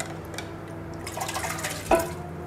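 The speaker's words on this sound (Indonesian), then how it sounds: "Kasih air kerambir." Coconut milk poured into a pot for dendeng balado, a soft liquid splash and trickle close by with a brief sharper slosh near the end, over steady kitchen background.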